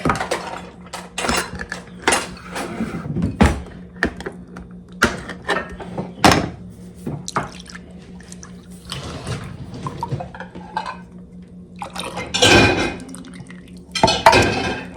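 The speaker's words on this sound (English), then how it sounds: "And then we are just going to whisk, whisk, whisk them all together" Whisking eggs and evaporated milk together in a bowl for a tres leches cake, rapid irregular metallic clinks and scrapes of the whisk against the bowl, close and fairly loud, without talk.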